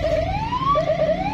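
A custom police-escort siren fitted to a car wails loudly and up close, rising in pitch and then breaking into quick repeated yelps, with no voices over it.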